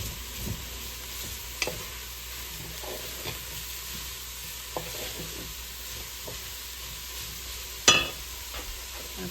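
Spices toasting with browned hamburger in a pot for lasagna soup, a steady low sizzle with occasional stirring scrapes and one sharper clink near the end, no talking.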